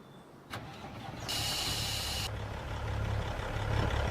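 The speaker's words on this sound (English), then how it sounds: "I could take a tractor over" Tractor engine in Farming Simulator 25, a short click followed by the engine starting up and settling into a steady low rumble that grows slightly louder, with no talking.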